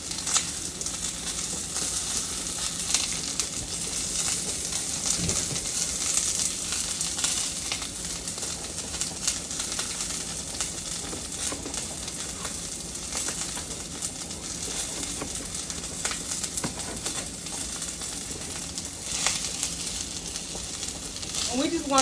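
Onions sizzle in a pan with a continuous, hissing crackle that stays fairly even throughout, with faint stirring and occasional soft background sounds.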